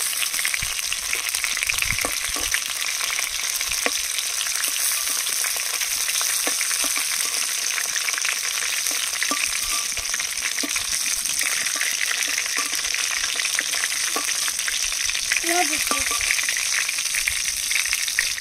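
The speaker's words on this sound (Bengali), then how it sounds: "পটলগুলো সব ভাজা হয়ে গেছে, এবার তুলে নেব।" Stuffed pointed gourds fry in hot oil with a constant, even sizzle throughout, close and steady, broken only by a few faint clinks of a utensil.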